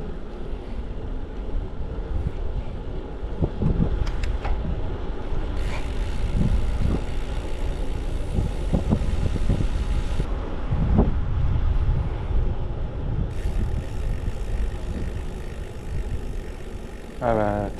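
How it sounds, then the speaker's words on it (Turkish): Wind buffets the microphone during a bicycle ride along the Danube river route, a steady broadband rush with gusty surges and occasional clicks and bumps throughout. "Rüzgar da var çünkü hala."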